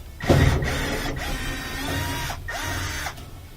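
A powered screwdriver whirs in short bursts to remove the Phillips head screws holding the gas pipe on an LG gas dryer, with close, loud runs separated by brief pauses.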